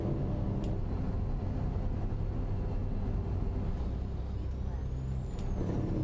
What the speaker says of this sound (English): people want to hear the sounds of the truck